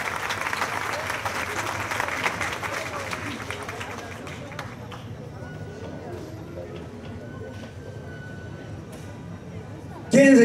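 An outdoor crowd at a fair's central garden applauds a live music group: broad, steady clapping that gradually thins and softens, with a few scattered claps continuing, before a sudden loud burst of sound cuts in at the end.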